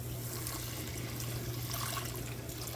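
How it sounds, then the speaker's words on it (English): Water is poured into a pot to start a soup, a steady low trickle running throughout, fairly faint against a constant low hum. "So we'll do a little bit of water."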